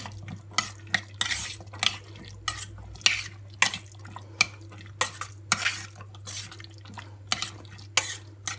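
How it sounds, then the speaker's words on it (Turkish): Dried beans, already drained, stirred in a pot with a spoon that gives a steady run of short scraping, clinking strokes against the metal, close and fairly loud over a low steady hum, with no voices. "süzmüş olduğum kuru fasulyemi ilave ediyorum. Tekrar karıştırıyorum."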